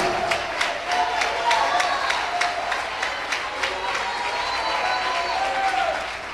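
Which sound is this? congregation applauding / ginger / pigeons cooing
congregation applauding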